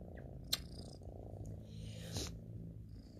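A domestic cat purrs softly and steadily at close range, a low continuous rumble with a couple of faint brief squeaks over it and no talking.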